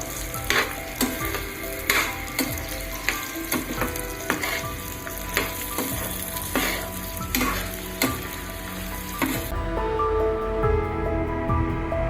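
Eggplant and onion sauté in a pan with a steady sizzle and rhythmic scraping, clacking strokes of a spoon roughly every half second, then the stirring stops and only a softer sizzle remains.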